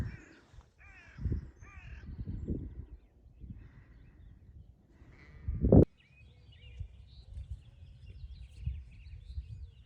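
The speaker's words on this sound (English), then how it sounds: "I can hear the skylarks, the birds, the woodpecker, the song thrush" Crows caw on a still, frosty morning at sunrise, with scattered harsh calls at varying distances and one loud, close caw midway, set against a quiet outdoor background.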